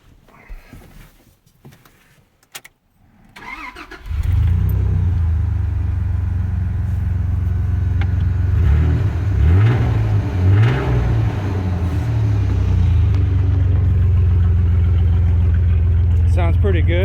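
A 2003 Dodge Dakota V6 fitted with a Cherry Bomb glasspack exhaust cranks and fires up after some quiet handling noises, then settles into a loud, deep, steady exhaust rumble with a few short revs rising and falling.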